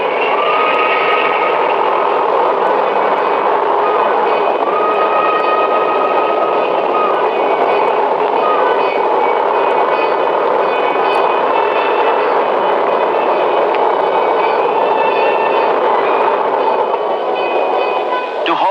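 A train rolls steadily along a special railway line laid to haul construction material for the Hirakud Dam, its loud, continuous rumble and clatter close and unbroken throughout.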